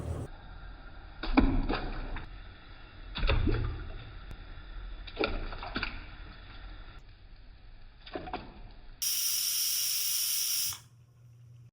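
A pressure cooker lets out a loud, steady steam whistle for about two seconds near the end, cutting off sharply, after softer kitchen clatter and bumps while Tamil-style white chickpea kurma cooks.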